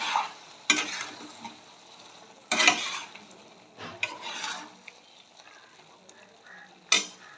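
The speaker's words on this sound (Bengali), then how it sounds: "ভাজা পনিরগুলো দিয়ে দিচ্ছি। গরম মশলা গুঁড়োটা দিয়ে দিলাম, যেটা আমি আমার ঘরেই বানিয়ে রাখি। একটু ভালো করে কষে নেব এখন।" Fried paneer cubes and garam masala are sautéed in a pan with a spatula, giving several separate scraping, stirring strokes over a soft background sizzle, close by and without talk.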